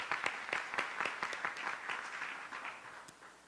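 Applause at a Charlotte-Mecklenburg Schools meeting: a faint, fairly distant crowd clapping with scattered individual claps, fading slightly toward the end.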